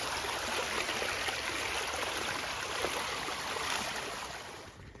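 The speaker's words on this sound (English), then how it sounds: "it is just rivers everywhere." Rivers flow everywhere outdoors, a steady, loud, broad rush of running water that continues unbroken before easing slightly at the end.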